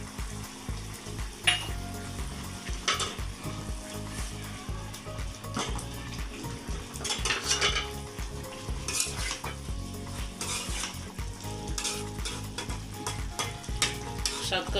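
Small baim fish curry with satkora sizzling and frying in a pan, a steady crackle broken by metal spoon scrapes and stirring clatter, close and continuous with no talk.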